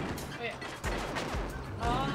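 Rapid popping shots from the Bill Blast minigame in Mario Party Superstars, a quick run of game gunfire with cartoonish effects, mixed with overlapping game sounds and talk.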